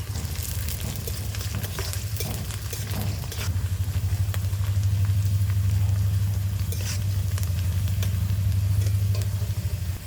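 Chopped garlic sizzles steadily in a frying pan with browning onions and slit green chillies while cooking kulekhara shaak, a continuous close hiss over a low kitchen hum, with occasional stirring scrapes.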